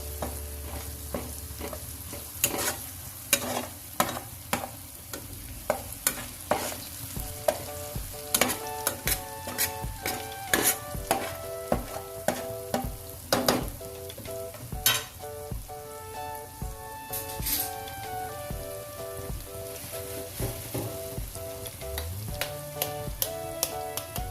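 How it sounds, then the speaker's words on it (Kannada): Egg bhurji frying in a pan, with steady sizzling under repeated sharp scrapes and clinks of a spatula stirring against the metal, close and fairly loud throughout. "ಅದು ಚೆನ್ನಾಗೆಲ್ಲ ಫ್ರೈ ಆಗಬೇಕು."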